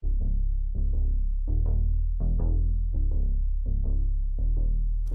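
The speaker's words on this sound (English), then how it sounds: "we add some transition synth. It's from the Legend Hans Zimmer plugin" Transition synth from the Legend Hans Zimmer plugin, a pulsing, throbbing pattern of repeated plucked stabs over a sustained low drone, steady and loud, heard on its own without voices.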